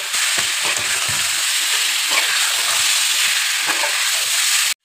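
Chicken meat sizzling and frying in a pan with cumin and Kashmiri chilli powder, stirred steadily throughout; a loud, close, continuous crackle with scraping stir strokes and no talk.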